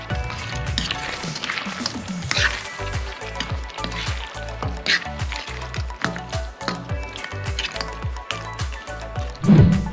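Chicken wings and frozen haricots being stirred in a pan, giving a steady wet squishing and scraping with a loose rhythmic pulse throughout.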